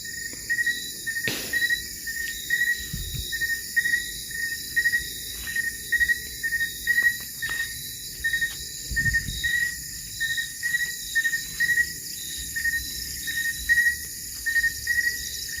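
Insects chirp at night in a cemetery, a clear, evenly pulsed trill repeating in short bursts against a quiet background, with one faint distant thump.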